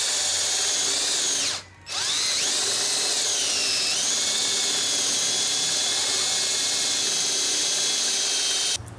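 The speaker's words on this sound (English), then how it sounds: "I'm going to drill a hole" A power drill whines steadily up close, pausing once briefly and spinning back up, its pitch dipping and settling as it bites into material.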